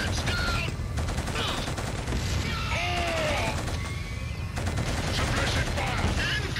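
Sustained gunfire rattles through a battle in the video game Killzone, dense bursts of automatic fire mixed with crashes and booms, loud and continuous, with shouted voices in the mix.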